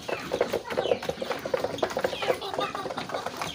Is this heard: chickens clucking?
yes